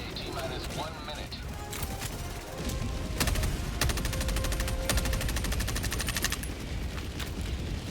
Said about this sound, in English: The Gatling sentry basically deletes the stingrays if locked onto it.